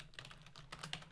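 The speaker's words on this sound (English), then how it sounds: "My typing is all over the place today." Rapid keystrokes clatter on a computer keyboard, a close, quiet burst of uneven clicks with no talking over them.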